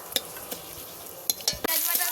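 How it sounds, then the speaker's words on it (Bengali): Cardamom and two dried red chillies tempering in hot oil, an ongoing close sizzle punctuated by several sharp spatters and pops, the sizzle swelling loudly toward the end. "ওই তেলাই এলাচ আর দুটো শুকনো লঙ্কা ফোড়নে দিয়ে দিচ্ছি"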